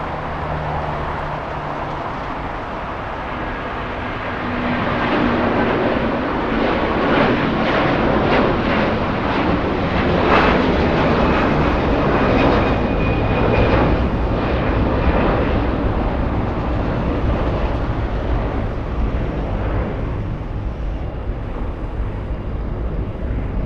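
A heavy jet airliner passes at LAX with a loud, broad engine roar that swells after a few seconds and holds as it flies overhead, then eases slightly toward the end.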